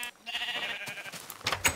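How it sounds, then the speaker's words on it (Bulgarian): A Minecraft sheep bleats a couple of times, a nasal wavering bleat followed by a shorter second call. Both are close and clear, with no talking. "Да видим тук овцете."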